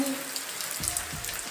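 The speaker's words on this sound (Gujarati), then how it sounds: "વરસાદ આવી ગયો મિત્રો" The first heavy monsoon rain of the season pours down steadily in Gir, a close, hissing wash of rain with a few low thumps near the end.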